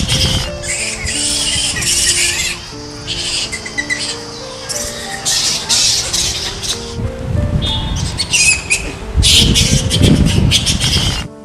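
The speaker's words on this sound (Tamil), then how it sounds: "கிரம்பியம் கிராமத்தில் நுழைந்தவுடன் ஈச் கீச் என்ற வௌவால்களின் சத்தம் அனைவரையும் ரசிக்க வைக்கிறது." A colony of fruit bats in temple trees in a village, loud chattering screeches and squeaks in bursts layered over one another, with a dense low background rumble.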